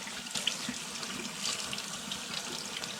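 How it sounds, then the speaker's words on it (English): Cool tap water runs into a kitchen sink over brined ham steaks being rinsed, a continuous close splashing hiss with small shifts as the meat moves under the stream. No one speaks. "I'm just going to rinse them with some cool water."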